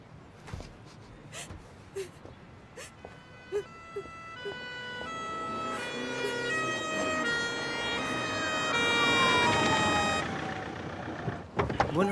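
Ambulance siren wailing in a rising and falling pattern, swelling louder as the emergency vehicle approaches and then passing, over background street noise and scattered knocks, with no speech.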